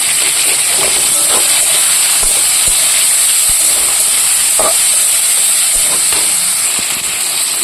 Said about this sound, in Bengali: এটাকে ভালো করে ভেজে নেব